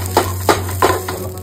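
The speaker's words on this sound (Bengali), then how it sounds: "এটাকে ভালো করে ফ্রাই করে নেব" Boiled potatoes frying in a pan, a spatula scraping and knocking against the pan four times in a steady rhythm over a low background hum.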